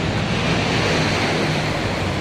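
Sea waves roll onto the long white-sand shoreline of Bira Beach in Bulukumba, South Sulawesi, a constant close hiss of surf mixed with wind buffeting the microphone.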